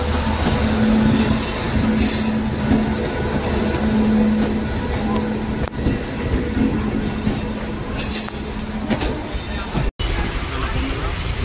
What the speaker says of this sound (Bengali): যে এক্সপ্রেসটা ঢুকছে এটা হচ্ছে লালখোলা শিয়ালদা ভাগীরথী এক্সপ্রেস